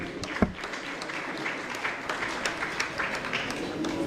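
Audience applause at a jazz festival launch ceremony for the festival commissioner, moderate scattered clapping with a sharp clap near the start and a crowd murmur beneath.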